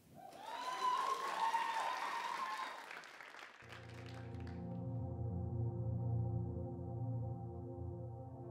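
Applause from an audience at an open mic night during a fashion festival swells and carries on for several seconds, then gives way to a sustained music-like tone.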